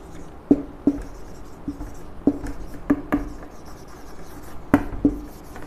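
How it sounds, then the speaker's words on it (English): Pen writing on paper, close and scratchy, with a series of short strokes and taps in an irregular rhythm, no talk. "I'll write it down so that it's easy for you."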